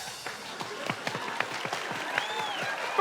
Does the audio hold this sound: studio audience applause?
yes